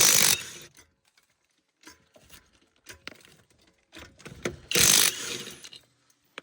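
A car wheel's nuts being tightened, with scattered close mechanical clicks and ratcheting taps between two loud bursts of rushing noise, and no talking.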